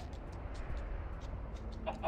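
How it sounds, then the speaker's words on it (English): A chicken in the game Minecraft Story Mode gives soft, faint clucks in short spaced bursts over a steady low background hum, with no one talking. "Whoa, a royal chicken."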